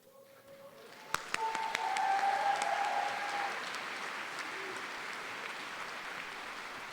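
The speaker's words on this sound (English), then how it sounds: "Let's have a round of applause for this PhD graduate." Applause from a graduation audience for a PhD graduate at a College of Natural Resources spring ceremony, a few sharp claps rising into steady, fairly loud clapping from a large crowd that holds for several seconds before easing slightly.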